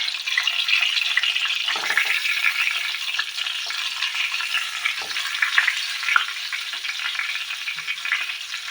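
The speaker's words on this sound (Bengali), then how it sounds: "এইভাবে কিন্তু আস্তে আস্তে ফ্রাই করতে হবে, তাড়াহুড়ো করলে হবে না" Eggplant fries slowly in a pan with a steady, soft sizzle and crackle. The hiss is moderate and continuous, with a few faint bumps, and no voice is heard.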